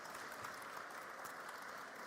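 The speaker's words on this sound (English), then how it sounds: "Round of applause." An audience gives a faint, steady round of applause at the close of a leadership discussion, a smooth, continuous patter of many hands with no voices over it.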